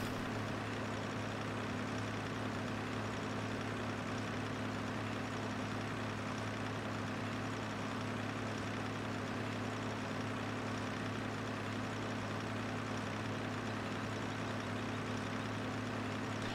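Steady low engine drone of a tractor idling in the Farming Simulator 15 video game, with a constant hum and a broadband mechanical rumble running unchanged throughout, no talking.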